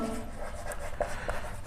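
Pen writing an Arabic letter by hand, a faint soft scratch with a couple of brief strokes over a quiet room background.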